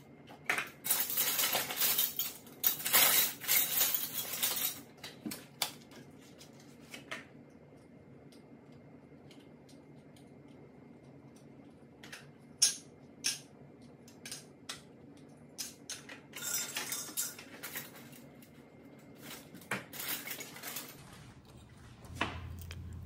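Glass mason jars and metal canning lids and bands clink and clatter in quick bursts, loudest at the start and again near the end, with quieter scattered taps between, close up and no talking.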